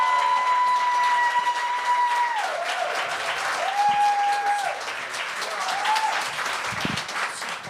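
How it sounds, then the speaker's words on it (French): A live comedy show audience applauds and cheers to welcome a comedian on stage, with dense sustained clapping and cheering across the whole stretch and sustained musical tones over the crowd. "Tenez un applaudissement pour Yannick Crévier!"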